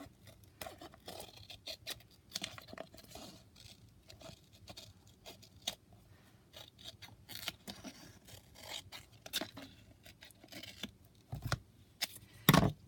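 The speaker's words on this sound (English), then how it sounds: "And I want to cut this off too and save it for another project." Scissors cutting through book-cover material, with scattered snips and soft rustling handling sounds at close range, quiet overall with a few sharper louder cuts near the end.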